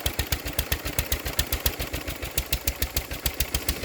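An old 1931 engine is spun over by a belt, giving a steady, rapid rhythmic thumping chug, close and loud with even repeating pulses throughout and no talking.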